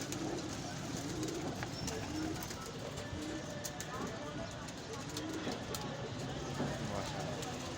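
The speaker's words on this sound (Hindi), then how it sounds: "दोस्तों ये कबूतर है" Soft cooing and light rustling from teddy king pigeons sit under a steady background hum, with a person talking nearby throughout.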